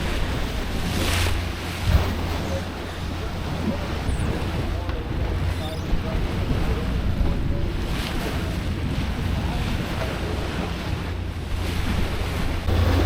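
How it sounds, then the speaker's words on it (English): Waves and wind at sea aboard a sailboat: constant rushing surf and heavy buffeting wind noise, loud and close, with surging swells and no pause throughout. "the waves are still shaking us like crazy over here"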